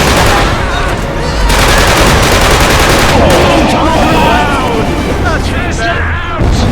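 Dense gunfire and explosions from the Killzone 2 battle aboard a cruiser, with rapid machine-gun bursts and booming blasts running nearly nonstop and loud throughout, while shouted voices cut in over the combat.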